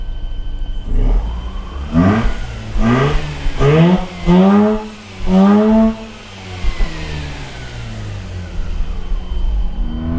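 A 2005 Mazda RX8 rotary engine, bought cheap at auction and bogging down, revs up repeatedly in a series of rising, sweeping bursts before settling back to a rough idle, close and loud with no talk.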